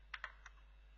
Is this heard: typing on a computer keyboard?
yes